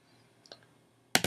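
Two sharp mouse clicks close together near the end, preceded by a couple of faint soft clicks, all in a quiet room while working in Logic Studio music software.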